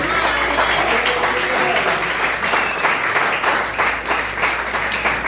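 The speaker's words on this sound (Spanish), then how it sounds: "Démosle palmas al Señor." A church congregation claps together during a Sunday service, producing a loud, sustained, pulsing wave of clapping with a low hum beneath it.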